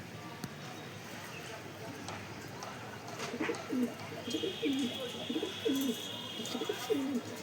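Domestic Surmiya pigeons kept at home coo close by, a series of low, rolling coos beginning midway and repeating steadily over faint room noise.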